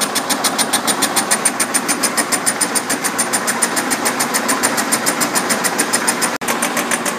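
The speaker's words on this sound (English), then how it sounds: "we're machining the side of the cylinder now that goes against the frame" A milling machine cuts the side of a cylinder casting for an Allen 10-wheeler model locomotive, making a steady, rhythmic pulsing whir that repeats evenly and close up, broken by one brief sharp click near the end.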